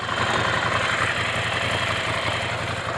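A 2017 Ducati Scrambler Cafe Racer motorcycle engine running steadily with a low, even throb and wind rush, heard up close from the rider's position for a few seconds with no talking.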